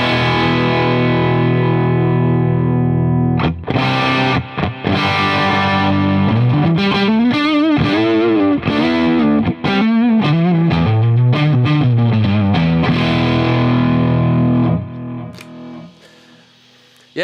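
Loud overdriven electric guitar through a Marshall SV20C Studio Vintage combo amp, chords and riffs ringing with distortion, then fading to amp hiss at the end.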